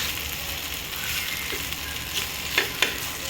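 Bombay duck (bombil) fish frying in a pan over low gas, with a continuous close hiss and sizzle of oil and a few sharper crackles and clinks of a utensil near the end.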